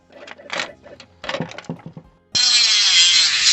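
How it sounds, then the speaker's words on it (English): A power tool bites into a plastic toy ray gun, a loud sustained high whine that starts abruptly after a stretch of talking and knocking. "I'm just gonna cut around this and see how much we can actually add to this."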